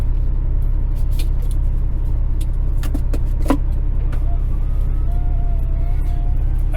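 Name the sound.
truck driving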